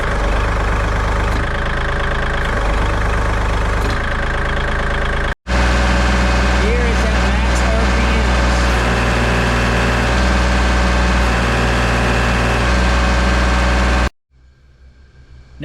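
A hydraulic-lift machine's engine idles steadily, a loud, close, even drone with a low mechanical thrum that briefly drops out near the middle, then continues before cutting to near silence at the end; no one speaks.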